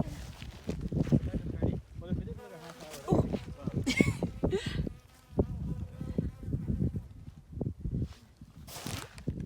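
A bee buzzes close around a hiker on the Pacific Crest Trail, its intermittent drone coming and going among talking and footsteps outdoors.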